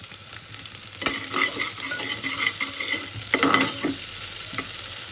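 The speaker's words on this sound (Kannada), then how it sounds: "ಹಸಿ ವಾಸನೆ ಹೋಗಬೇಕು, ಅಲ್ಲಿವರೆಗೂ ಸ್ವಲ್ಪ ಫ್ರೈ ಮಾಡ್ಕೊಳ್ತಾರೆ" Green chillies and spices fry in a pan for Coorg-style chicken soup. A spoon stirs and scrapes the pan repeatedly over a continuous sizzle, close and clear with no voices.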